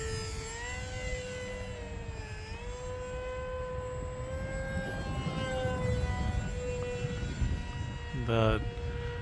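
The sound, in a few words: HobbyZone Aeroscout RC airplane flying in gusty wind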